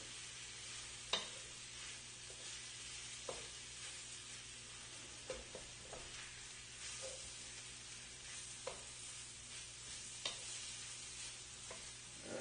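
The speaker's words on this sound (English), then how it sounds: "this is frying up nicely here" Rice and broccoli sizzle steadily in a hot pan for teriyaki stir-fry with diced ham, with occasional scraping clacks of a utensil stirring, close up and without talk.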